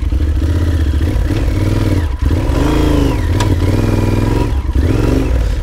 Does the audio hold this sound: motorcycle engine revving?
yes